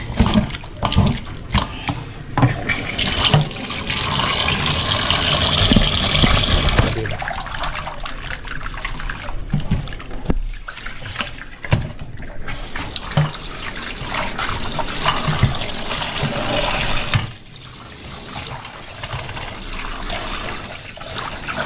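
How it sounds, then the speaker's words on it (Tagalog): Strong running water gushing from a tap into a sink in a home kitchen, loud and continuous with changing splashes and brief trickling patches, no talk over it. "Lakas ng tubig ngayon."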